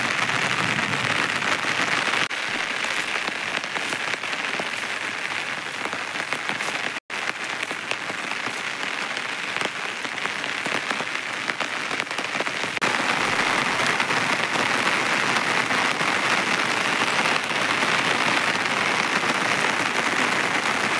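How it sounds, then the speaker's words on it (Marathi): Rain pours steadily in the open countryside near a filled village lake, a dense, unbroken hiss that holds at an even loudness throughout with no voices. "पाऊस चालू आहे."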